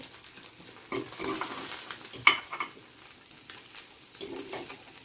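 Mangalore-style cucumber guliyappa batter frying in hot oil, a steady close sizzle with stirring scrapes and one sharp metallic clink partway through; no one speaks.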